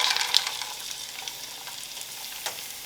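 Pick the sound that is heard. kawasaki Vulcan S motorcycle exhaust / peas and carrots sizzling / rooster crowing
peas and carrots sizzling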